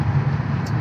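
A BMW E38 with its muffler deleted cruises slowly in normal drive mode, giving off a steady, deep exhaust rumble with no other sounds over it.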